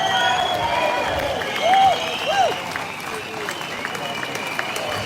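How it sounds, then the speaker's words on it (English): A crowd at a live public rally applauds in a sustained, fairly loud wash of clapping, with a couple of brief whoops and scattered voices rising over it. "Please give her a massive round of applause."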